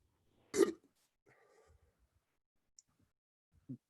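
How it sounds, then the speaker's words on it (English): An actor playing Frankenstein's monster in a stage comedy lets out one sharp, loud hiccup in near silence, followed by a much fainter second hiccup a few seconds later. "The monster hiccups."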